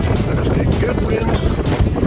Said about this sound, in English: There's a good wind